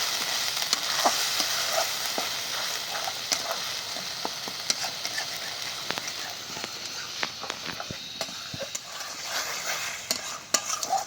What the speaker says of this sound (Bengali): এটাকে ভালো করে কষিয়ে নেবো যতক্ষণ তেল না ছাড়বে।